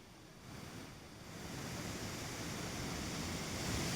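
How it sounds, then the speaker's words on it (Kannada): Ethipothala waterfall in full flow after heavy rain, a steady broadband roar of falling water that swells slightly louder, with some wind buffeting on the microphone and no voices. "ಎಲ್ಲ ಫಾಲ್ಸ್ಗಳು ಕೂಡ ಮೈದುಂಬಿ ಹರಿತಾ ಇದೆ ನೀರುಗಳು."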